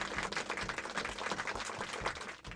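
Banquet guests in an animated film clap together in a steady, lively round of applause, fairly quiet and continuous from start to finish.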